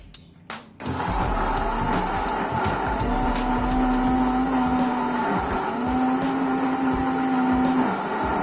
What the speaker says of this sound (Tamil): மிக்சர் கிரைண்டரில் எடுத்துக்கிட்டு அதை மிக்சியில் வச்சு